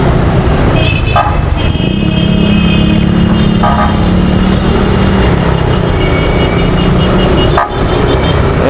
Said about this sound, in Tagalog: Ayan, sobra-sobra talagang traffic.